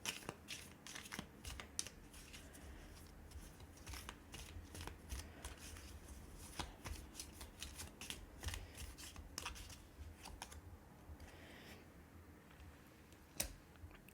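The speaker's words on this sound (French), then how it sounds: "je vais même retirer une petite carte là" Tarot cards are shuffled and drawn by hand, a near, continuous run of quick papery riffles and flicks with a sharper card snap near the end and no voice.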